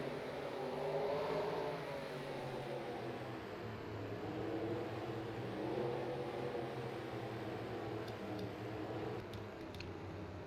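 Race cars in a racing video game roll off at Sears Point, a steady, fairly quiet drone of several engines humming and swelling together at a distance, with no speech.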